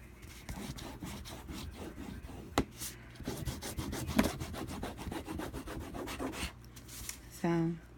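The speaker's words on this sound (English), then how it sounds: "It's plastic, it's a bone fold basically, and I'm going to be burnishing the card." Plastic bone folder burnishing cardstock in a card-making craft, close repeated scraping rubs in a steady back-and-forth rhythm with a few sharp taps and a brief squeak near the end, no speech.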